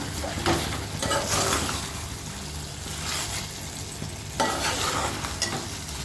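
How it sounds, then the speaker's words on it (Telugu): Chicken fries in a pan without added water, a steady loud sizzle with bursts of scraping as it is stirred, several times over about six seconds, with no voices. "చక్కగా ఫ్రై అవుతుంది"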